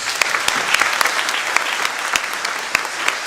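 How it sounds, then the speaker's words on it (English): An audience at a high school honors ceremony claps warmly, steady applause from a large indoor crowd with sharp individual claps standing out close to the microphone. "Let's please give them a warm applause"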